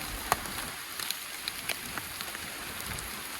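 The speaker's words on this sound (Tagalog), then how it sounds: "Malakas na ang ulan." Heavy rain pours down steadily outdoors at a fishpond, a dense hiss with a few sharper drops splattering near the microphone.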